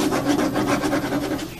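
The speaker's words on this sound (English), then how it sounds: "you're just going to scrape that name off there" Scraping a name off the surface of a mask makes a loud, close, rhythmic rasping rub repeated in quick strokes throughout.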